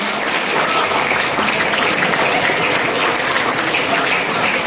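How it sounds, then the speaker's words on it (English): A crowd at a 5-kilometre road race gives loud, sustained applause for a winner in the senior women's category, dense and continuous clapping throughout with no speech. "Can we have a round of applause, please?"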